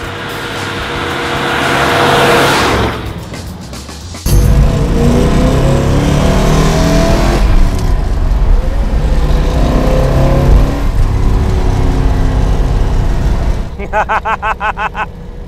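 A 1970 Plymouth AAR Cuda V8 revs loudly with its carburetors being checked, the engine note surging and settling in repeated blips, with a voice briefly heard.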